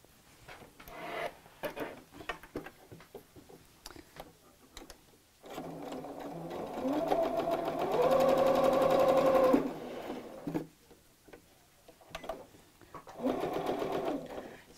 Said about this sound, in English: Sew into the corner and stop with the needle in the down position